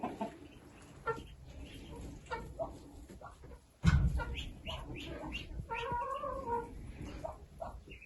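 Hens cluck and murmur close by in short bursts inside a chicken and duck coop, with a sudden louder flurry of squawking partway through.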